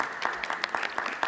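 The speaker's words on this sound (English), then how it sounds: "commissioners, yes, you should give yourselves a round of applause for getting these grants out" A short burst of steady clapping from a gathered audience at a CPC community meeting, commissioners applauding themselves for getting grants out, moderately loud and brief.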